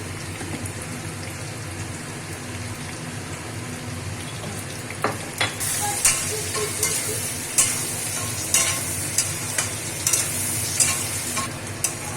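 Potatoes fry with turmeric in a wok for a mutton curry, a steady loud sizzle with scraping stir strokes that grow more frequent toward the end.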